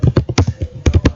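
Someone types a pip install command for Flask on a computer keyboard, giving a quick burst of sharp, close key taps in an uneven rhythm, heard alone.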